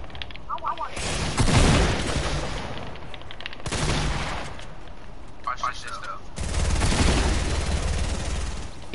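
Gunfire from a shooter video game, dense bursts of shots and booms rolling through the scene in loud waves, with voices talking over the action throughout.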